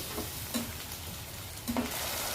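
Prawns with biryani masala fry in hot oil in a pan, giving a steady close sizzle with a couple of brief stirring scrapes.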